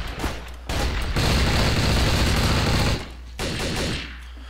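Rapid automatic gunfire in a Garry's Mod Trouble in Terrorist Town round, two loud sustained bursts of dense shots, the first about two seconds long and the second shorter, close and unbroken by talk.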